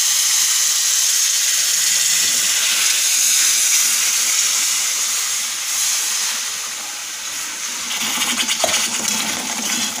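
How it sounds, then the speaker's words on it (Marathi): Water poured into hot fried masala for a rohu fish curry hisses and steams loudly and steadily throughout, with a brief sharper burst of sputtering near the end. "त्यामध्ये आता आपण पाणी घालूया।"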